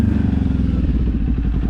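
Kawasaki motorcycle engine droning steadily as it is ridden, a loud, continuous low rumble with slight pulsing and no talk.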